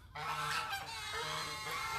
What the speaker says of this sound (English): You geese are so noisy.